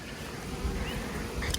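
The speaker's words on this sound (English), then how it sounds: "The bees are not happy today." Honey bees buzzing around an opened hive box as frames are worked, a steady diffuse insect hum close by with outdoor rustle and no talk.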